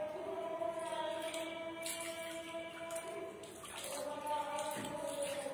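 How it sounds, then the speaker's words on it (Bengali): Hands are washed under a running tap, with a steady close stream of water and splashes that shift as the hands move through it. "হাতটা ধুয়ে ফেলবো"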